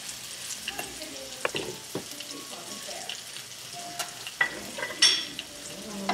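Banana fritters frying in a pan at home, with soft steady sizzle and a few clinks and scrapes of stirring utensils, close and fairly quiet, no talking.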